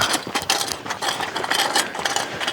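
A scooter clacks and rattles continuously on a walk in Galloway, Scotland, a busy, fairly close mechanical chatter with no voices.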